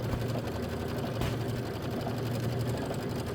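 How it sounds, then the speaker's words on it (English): An embroidery machine stitches a mini quilt block held in a magnetic hoop, a fast, even mechanical whirr with a low steady hum and one brief louder clack, running alone with no talking. "this is 4 minutes of quilting. Just let it go."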